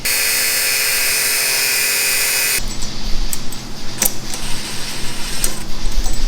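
A power tool whirring at a steady high pitch while working a bolt loose, then cutting out into louder rattling, clanking mechanical handling and knocks, close by.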